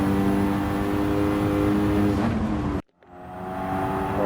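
A Ford Focus RS engine in Gran Turismo 7 at Road Atlanta, loud and steady at high revs, cutting out abruptly for a moment as it shifts up into fifth, then climbing again on the next gear.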